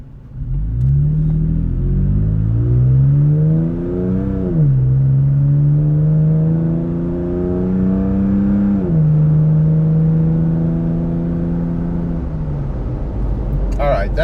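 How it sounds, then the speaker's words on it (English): A Toyota pickup truck with an aftermarket dual exhaust pulls away at normal throttle and climbs through several gears to about 50, each rising whine dropping back as it shifts, loud and close throughout. "We're going to let you hear the truck through acceleration."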